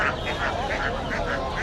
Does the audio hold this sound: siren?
no